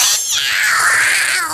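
A cartoon cat in a Hindi-dubbed Doraemon episode gives a drawn-out, loud meow-like cry that bends in pitch and sounds close, with no talk over it.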